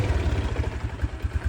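The engine of a restored 2012 Yamaha LC motorcycle starts up with a quick, low, rhythmic putter, close and steady for a brief moment.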